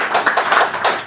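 A run of sharp hand claps, about five quick bursts close together, fills a Sunday Buddhist dharma service hall with no talking over them.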